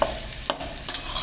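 Onions frying with black pepper, cumin and chilli in a pan for Maggi noodles: soft steady sizzle with two or three brief stirring scrapes, close and short, with no talk.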